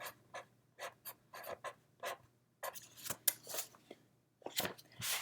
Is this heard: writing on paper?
yes